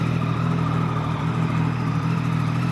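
A Yamaha MT-09 motorcycle on a test ride, its engine running at a steady, close, loud drone with a low throbbing rumble and no talking.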